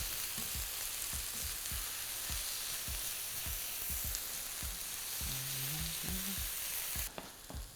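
Sweet and sour tofu sizzling in a pan, with a constant loud crackle of hot oil and regular scraping strokes as it is stirred and tossed through the sauce. A brief tonal clatter comes near the end.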